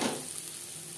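Onions frying in a pan for a lentil and snake gourd dish, a soft steady sizzle running evenly through a short moment with no talk.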